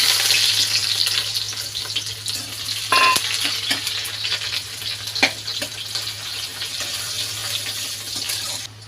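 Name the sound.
onions frying in oil with five-spice tempering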